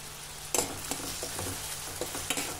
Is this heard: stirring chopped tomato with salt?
yes